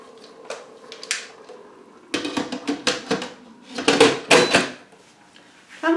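The lid of an Instant Pot EVO pressure cooker is fitted on, with a series of close clattering metal and plastic clunks, scrapes and a twisting rattle, loud bursts separated by brief pauses.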